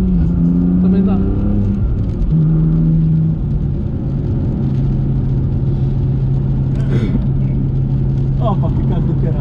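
A BMW M2 Competition drives fast on a wet track, its engine droning in a steady, loud tone with shifts in pitch, while people talk over it.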